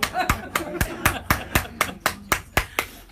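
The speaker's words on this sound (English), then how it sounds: "I'm the only one clapping" A single person claps in a steady, even rhythm during a church talk, roughly a dozen crisp, close claps evenly spaced, with faint voices underneath.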